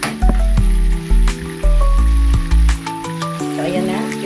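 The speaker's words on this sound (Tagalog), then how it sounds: "Prito lang natin siya." Food sizzles and crackles steadily in hot oil close by, with clanking of utensils and a pan over the frying.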